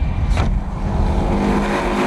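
A rally car runs a loose-surface moorland stage, its engine a loud close roar with a brief rising whoosh early on as it sweeps past, settling into a steady drone.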